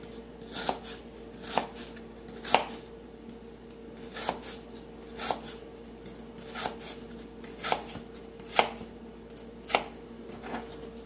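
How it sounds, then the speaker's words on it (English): A knife chopping an apple on a cutting board, about ten crisp, evenly spaced thuds at a steady unhurried pace, close and clear against a faint background hum. "See how I kind of chopped into the core a little bit when I did that."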